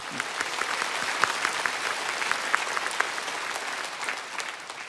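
A church congregation claps together in steady, dense applause, close and sustained from start to finish with no speech over it.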